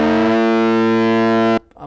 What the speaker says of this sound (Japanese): 2つ目のオシレーターのピッチを微妙にずらす。